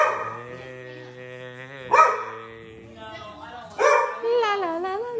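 A dog barks in short bursts, a couple of sharp barks rising over people talking and singing nearby in a home.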